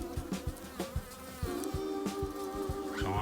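Honeybee workers buzz in a dense, close swarm around a caged queen whose cage has a propolis cap, with wingbeat drones rising and falling and a few louder passes.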